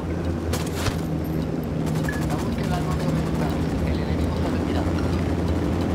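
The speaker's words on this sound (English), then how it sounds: "I see an Apache." An Apache attack helicopter in Ghost Recon Wildlands gives off a steady rotor drone with a rhythmic blade chop, loud and constant above the game's background noise.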